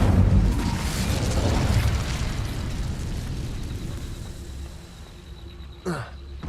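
A fire spell cast in a Hogwarts wizarding video game bursts out as a loud whooshing roar that fades over several seconds, followed by a brief sharp magical chime near the end.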